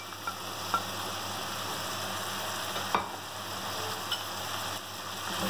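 Beef for nihari fries with red chili, turmeric and salt, giving a steady close sizzle with a few light stirring knocks against the pan.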